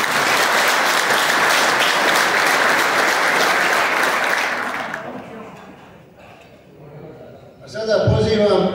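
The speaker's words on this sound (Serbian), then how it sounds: "Hvala još jednom i veliki aplauz za naše Darka i za naše generala" Audience at a Kalinovac folk gathering claps in dense, sustained applause for several seconds, then fades out; near the end a voice speaks over a microphone.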